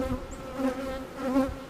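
Honeybees buzz steadily around an open hive during a mid-March inspection on a farm, a close, continuous drone with harmonic layers that swells and eases slightly, with no talking.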